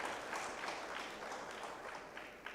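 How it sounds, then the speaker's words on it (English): Conference audience applauding at a national content conference, a steady wash of many hands clapping, fairly distant and soft in a large hall. "Please give them a round of applause."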